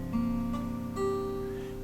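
On an acoustic guitar, a barre chord is picked and allowed to ring, its strings sounding in quick succession and then sustaining, close and fairly quiet, with no voice.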